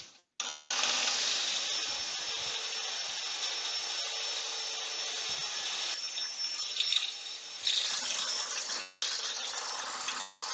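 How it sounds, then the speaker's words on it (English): A shop vac hooked up to a sander roars steadily and loudly during woodturning work on an inlaid lidded box. It runs continuously with slight shifts in tone and cuts out briefly near the start and end. "that shop vac is actually pretty noisy"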